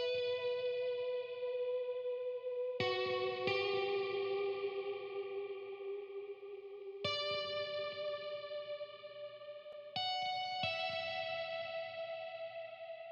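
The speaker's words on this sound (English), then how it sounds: "the next thing that I have is this guitar from Omnisphere" An Omnisphere guitar patch plays a slow melody in an FL Studio 90s R&B-style beat, sustained chorused and echoing notes changing every few seconds, clean and fairly quiet with no talk.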